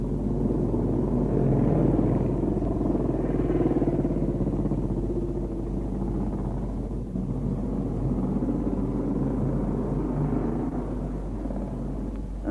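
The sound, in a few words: motorcycles riding at 1958 Isle of Man TT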